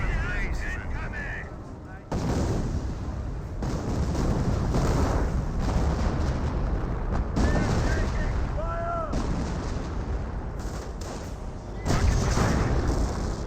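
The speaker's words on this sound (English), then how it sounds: "This could be a creeping barrage. This could be a regular barrage. This may be a creeping barrage. Yep, creeping barrage." Creeping artillery barrage in Company of Heroes, heavy repeated booms and rolling shellfire in a dense continuous roar, loud and close, with someone talking over the battle.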